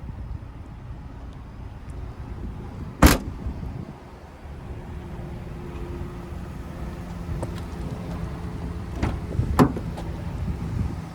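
Rear hatch of a 2021 Chevy Spark LT being shut: a single solid thump against faint outdoor ambience, with a lighter knock a few seconds later.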